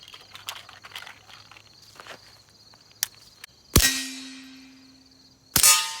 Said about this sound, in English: I love shooting steel with a suppressor